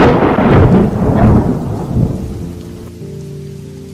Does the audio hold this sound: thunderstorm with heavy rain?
yes